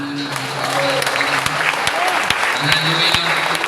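A church congregation at an anniversary service applauding together, dense sustained clapping throughout with a few sharper claps standing out and some voices mixed in.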